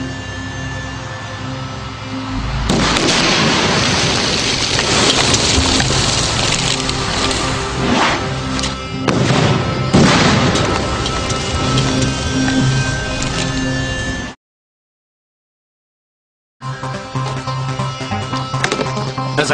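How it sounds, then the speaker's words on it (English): Rubidium reacting violently in water: a loud, violent fizzing and crackling eruption, dense spattering bursts that roar for several seconds, briefly cut to silence, then resume strongly. "Rubidium will only react when our specially designed vial dissolves in the water, which gives John a few crucial seconds"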